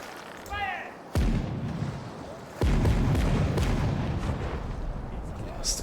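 Ship cannon broadside in the pirate video game Caribbean Legend: two heavy booming shots about a second and a half apart, the second followed by sustained rumbling roar, loud and close.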